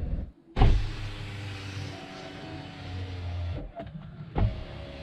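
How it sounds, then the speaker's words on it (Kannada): Power windows on a used car being run up and down, a steady electric motor whine with a thump as each pane stops, close and alone with no voices. "ಪವರ್ ವಿಂಡೋಸ್ ಏನಿದ್ರೆ ಅದನ್ನ ಅಪ್ ಆ್ಯಂಡ್ ಡೌನ್ ಮಾಡಿ ನೋಡಿ, ಕ್ಲೀನಾಗಿ ಅಪ್ ಆ್ಯಂಡ್ ಡೌನ್ ಆಗಬೇಕು."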